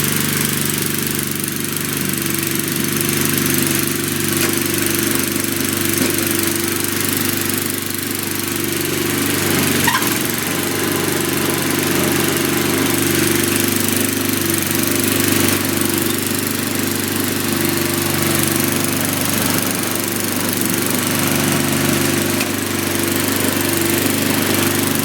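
A 1997 Murray Ultra 22-inch two-stage snowblower with a 5 HP engine runs steadily for the whole stretch, a loud, constant mid-pitched engine drone with a slightly uneven, rough edge and no pauses.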